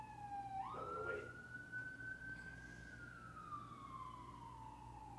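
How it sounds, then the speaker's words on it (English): Emergency siren wailing in New York City street traffic, a single loud rising-then-slowly-falling tone that sweeps across several seconds over a low engine rumble, fairly near and alone without talk. "in New York City, welcome to the sirens"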